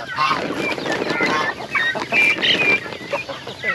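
Dense poultry chatter of turkeys and fowl, many birds gobbling and honking over each other, close and fairly loud throughout.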